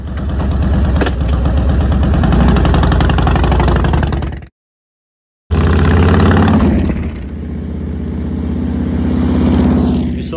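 A Harley Ultra Classic motorcycle engine runs loud and close with a steady, throbbing rumble, cuts out briefly for about a second, then returns and settles to a lower running note.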